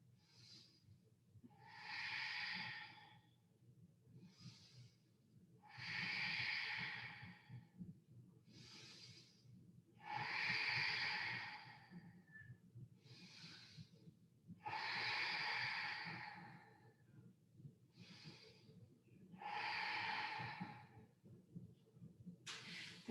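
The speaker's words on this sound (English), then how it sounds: "Take a big, deep breath." Deep breathing during a yoga session: about five slow, airy breaths, each swelling over a couple of seconds with pauses between, soft and close, over a faint low hum.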